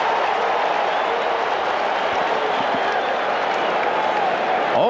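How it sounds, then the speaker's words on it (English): A festive baseball crowd at Shea Stadium during the 1986 World Series, Red Sox at Mets, keeps up a dense, steady roar of cheering and applause, with a broadcaster's voice faintly in the mix. "It is a festive, highly enthusiastic crowd"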